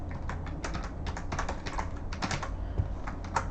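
Someone types a password on a computer keyboard, quick irregular clicking keystrokes close by, with a brief pause or two between bursts and no talking.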